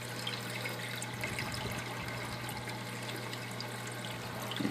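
Water trickles and gurgles steadily through a Durso standpipe drain, a continuous close wash of flowing liquid with a low steady hum beneath it and no voices.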